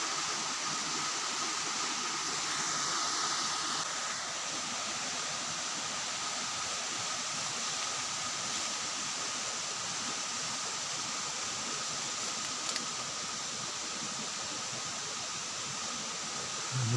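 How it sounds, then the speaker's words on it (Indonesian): A quiet, steady broadband rush of a waterfall on the slopes of Mount Lawu heard from a distance, unchanging throughout with no voices. "di situ ada air terjun"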